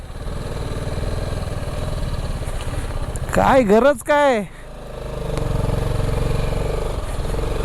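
A motorcycle engine hums and rumbles steadily while riding through traffic, with a loud vehicle horn sounding in the middle and a brief spoken remark over the engine noise.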